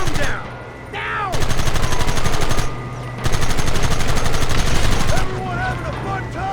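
Loud, rapid gunfire from Red Dead Redemption rattles in two long sustained bursts of close, repeating shots, with brief lulls between where shouting voices and whistling ricochets come through.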